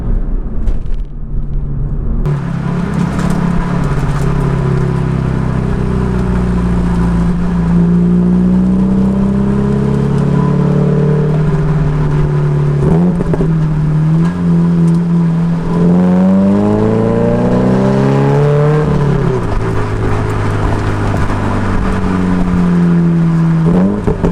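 A Subaru BRZ engine heard while driving on an open road out of town. The loud, continuous drone rises and falls in pitch as the car accelerates and eases off, with no talking.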